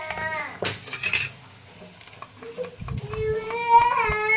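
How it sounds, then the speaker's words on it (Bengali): Tomato paste goes into a pan of oil-fried spices and gets stirred, producing clinks and scrapes of utensil against pan in scattered bursts, fairly close, with a person talking in between. "এই যে টমেটোটা পেস্ট করেছি সেটা আমি এখানে দিয়ে দেবো"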